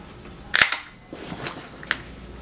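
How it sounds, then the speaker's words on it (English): A can of Henhouse Frozen Envelope IPA cracks open with a sharp, close metallic pop and a brief fizzing hiss, followed by a couple of lighter clicks in a quiet room. "let's crack into this"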